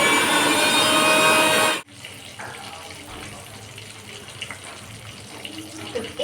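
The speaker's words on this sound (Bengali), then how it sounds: "এবার করবো পানি অ্যাড" A kitchen tap runs strongly into a bowl, a loud, close gush lasting nearly two seconds before it is shut off abruptly, followed by quiet handling noises.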